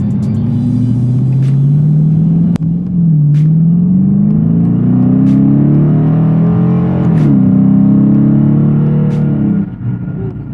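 A 2018 Dodge Challenger R/T Plus V8 revs loudly and close, its deep engine rumble climbing and easing through several pitch sweeps while the car is driven, with no talking.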